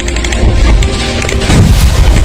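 A dense, continuous rumble of artillery shelling, booming blasts and sharp cracks, loud and close, with heavier low thuds surging near the end, on the Panjshir border in Afghanistan during fighting involving the Taliban.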